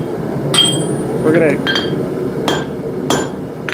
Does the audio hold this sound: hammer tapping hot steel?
yes